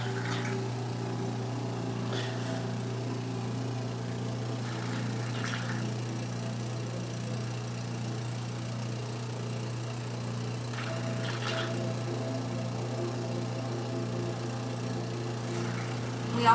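A Silk Peel dermal infusion machine running during a facial, a steady low mechanical hum and drone throughout, with a few faint soft hisses at intervals.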